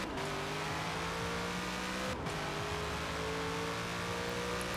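Corvette engine in Forza Horizon 4 revving hard and climbing through the gears, with a brief break at a shift before the revs build again and hold near the top, loud and continuous.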